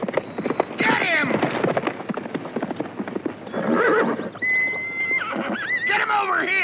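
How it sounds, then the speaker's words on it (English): A horse whinnies repeatedly with shrill, wavering neighs amid hoof clatter and shouting voices, loud and close. "Stop that horse! Stop him!"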